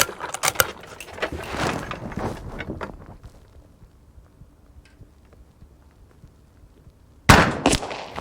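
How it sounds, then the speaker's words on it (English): A single loud, sharp report from an 1892 Winchester rifle in .32-20 fired outdoors cracks near the end after a quiet stretch, with clattering handling noises in the opening seconds. "this is the last shot going"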